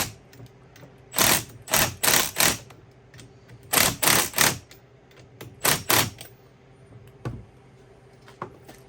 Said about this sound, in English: I'm just going to run it down with the impact real quick